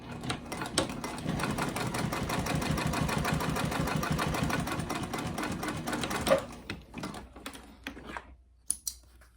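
A sewing machine runs a steady, fast line of double stitching across the bib of a pair of overalls, then stops after about six seconds, leaving a few faint clicks and handling sounds.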